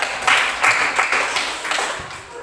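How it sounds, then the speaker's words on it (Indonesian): Classroom audience clapping for a presenting student group, a short burst of uneven hand claps in several bunched waves, fairly close and fading toward the end. "Tepuk tangan dulu untuk kelompok 3 ya."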